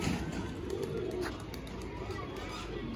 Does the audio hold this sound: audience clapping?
no